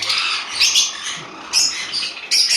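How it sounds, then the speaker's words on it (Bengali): Caged pet conures, Java sparrows and lovebirds squawk and chirp in loud, overlapping bursts, with sharp high calls returning every second or so, close by and continuous. "চারিদিকে এরকম পাখির আওয়াজ"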